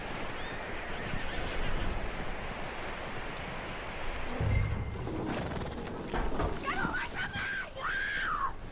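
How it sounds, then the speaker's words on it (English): A horse in the video game Red Dead Redemption 2 whinnies near the end over a busy, noisy backdrop of hoof clatter and rustling, with people talking intermittently. "That looks like a decent horse."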